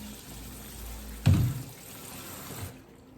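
Tap water runs onto fruit in a kitchen sink, a quiet steady patter with a sudden louder splash partway through before it settles back into a soft trickle.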